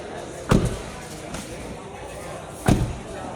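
A Toyota Sienta car door slammed shut twice during a door switch check, each a heavy, close thud a couple of seconds apart over a faint background.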